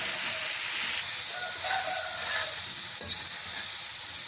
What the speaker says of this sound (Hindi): अब हमने इनको अच्छी तरह से फ्राई करना है।